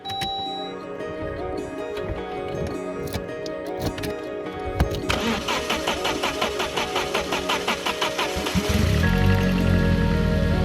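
An old SAAB car engine cranks in rapid, rhythmic pulses, then catches and settles into a steadier, louder rumble.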